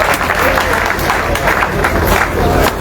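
A room of people at a technical team meeting on a thermal power plant tour claps continuously, loud and close, with scattered louder claps and faint voices mixed into the steady applause.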